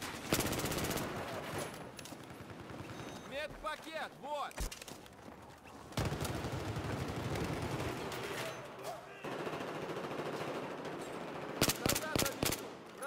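Famas rifle gunfire in the video game Battlefield 4, loud bursts of rapid automatic shots recurring through the scene with explosions and crackle, under steady spoken commentary.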